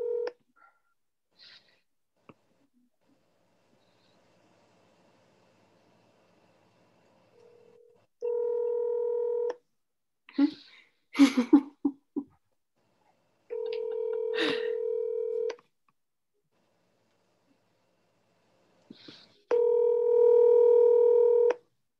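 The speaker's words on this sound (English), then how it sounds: "I've got Jim on the phone" Telephone tones while placing a call: a few short dialing beeps, then separate sustained tone bursts separated by silence, with a brief burst of noisy handling in between.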